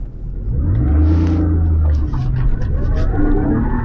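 A Porsche 996 Carrera 4S engine revs while driving, a loud rising and falling drone with clear tonal sweeps that swell up and hold, close and with no talk over it.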